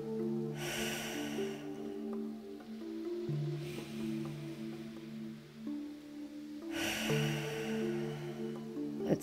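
Deep, slow exhale through the mouth during a Pilates exercise on a reformer, audible as a soft rushing breath rising and fading over a few seconds, with a second breath later, set over a steady background music bed.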